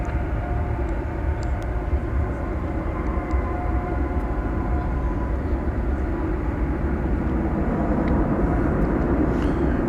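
Qantas airliner departing DFW for Melbourne at night, a steady, loud, broadband engine roar that holds unbroken for the whole stretch with no talk.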